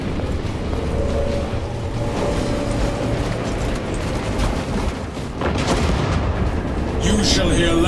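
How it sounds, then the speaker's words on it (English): Heavy cannon fire booms repeatedly amid a dense, rumbling battle din in the video game Space Marine 2, with constant blasts and crashes layered close and loud. "Cannons herald the Tyranids' demise."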